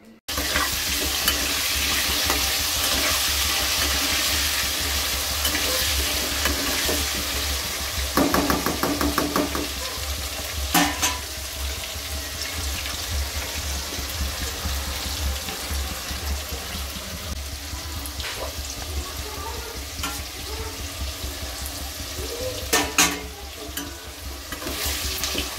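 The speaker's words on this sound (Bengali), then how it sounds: "এই যে আলুগুলো সব ভাজা হয়ে গেছে" Potatoes sizzle steadily in a frying pan on a home stove, with a dense hiss throughout, broken by occasional scrapes and clinks of stirring.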